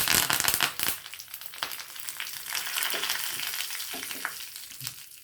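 Curry leaves and asafoetida drop into hot oil in a pan and sizzle loudly with crackling bursts, then a steady frying hiss that slowly fades.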